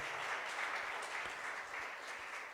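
Enthusiastic clapping from a church congregation at a Sunday service, dense and continuous throughout, steady in volume without any speech on top.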